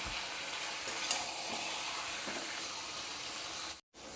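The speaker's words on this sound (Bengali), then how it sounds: "চলো মাংসটা ধীরে ধীরে কষাতে থাকি" Mutton mixed with onions is slowly sautéed in a pan for a thin potato and goat-meat curry, giving a steady, even sizzle and hiss that ends in a brief cut of silence.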